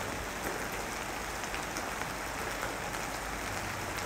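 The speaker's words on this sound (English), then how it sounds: "And then came the beautiful rain." Steady rain falling, a dense even hiss of drops on surfaces that stays constant and fairly close throughout.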